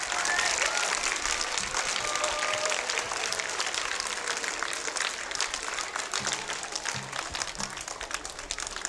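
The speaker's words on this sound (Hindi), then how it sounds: "जोरदार तालियों से स्वागत।" Steady, dense applause from an audience welcoming teachers onto a school stage, continuous and fairly distant, with faint background voices underneath.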